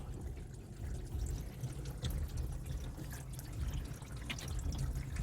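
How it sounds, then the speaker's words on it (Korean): Water leaks into the trunk of a Honda Civic damaged in a rear-end collision, a steady close trickle and splash over a low rumble, with scattered sharper drips throughout and no talking. "물이 생각보다 좀 많이 들어오는데요"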